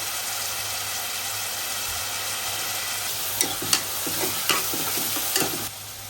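Onions fry in oil in a pan for a mutton aloo curry, giving a steady close sizzle, with a few stirring scrapes and knocks toward the end.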